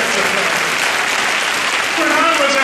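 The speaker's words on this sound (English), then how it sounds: "Give Ron another round of applause" Steady audience applause at a community speaking event, a dense, even wash of clapping that swells slightly near the end.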